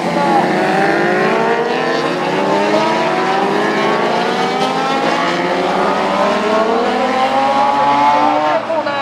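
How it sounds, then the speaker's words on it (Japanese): Racing motorcycles such as a Kawasaki H2, GPZ900R, ZRX1100 and Suzuki Katana 1000R scream down the main straight at Tsukuba Circuit during the 2020 Taste of Tsukuba final, loud engines rising through the gears and overlapping as the bikes pass. "そしてさらにストレート速い三本が前に出てきます"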